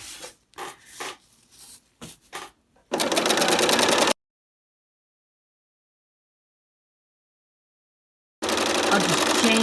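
A serger sewing machine chains off a fabric edge in two loud, steady mechanical runs split by a silent gap, after a few short rubbing and clicking handling sounds.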